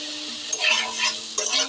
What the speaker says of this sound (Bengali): এবার এটা নাড়তে থাকতে হবে।